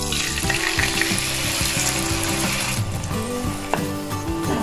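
Tomato puree with a pinch of asafoetida sizzles and spatters steadily in a hot pan, a dense, constant frying hiss that continues with no break and no talking.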